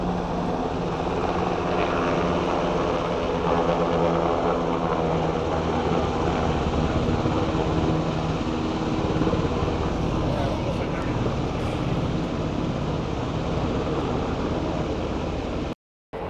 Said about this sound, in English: helicopter will typically hover about 10 feet above the water while the personnel climb the ladder